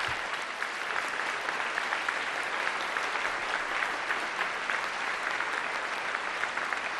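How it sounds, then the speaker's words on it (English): Steady, full applause fills a large hall at a book expo author panel, a dense and even roar of clapping from a big crowd that lasts all seven seconds without letup. "Give a round of applause for the program that you were about to see"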